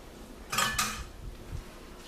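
Freshly cooked beans tipped into a bowl make a short clatter of utensil against dish, two quick scraping bursts followed by a few soft knocks, close and alone.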